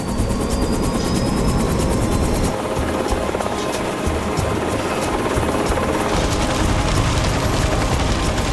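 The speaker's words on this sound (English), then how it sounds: "The only efficient way to get the men out there is by helicopter." A Bristow helicopter on a long flight ferrying workers to a remote site, its rotor and turbine making a loud, steady drone that fills the cabin from start to finish.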